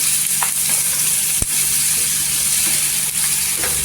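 Onions sizzling and frying steadily in hot oil in a pan for egg tawa masala, a loud continuous crackling hiss with a couple of brief stirring knocks, close and without talk.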